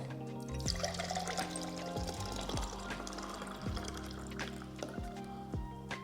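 A drink poured into a glass up close, a quiet steady stream of liquid with gurgling and rising bubbly tones, faint and alone without talk.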